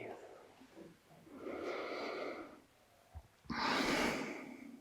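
Slow breaths during a guided breathing exercise: a long, soft exhale, a pause, then a sharper, louder airy inhale or exhale near the end, close and quiet with no talking.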